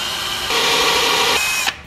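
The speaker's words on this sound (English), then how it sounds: "That's called pre-drill, so you don't split your wood." A power drill pre-drills wood for platform bed slats, one loud steady whir lasting under a second before cutting off with a short click, heard close and without talk.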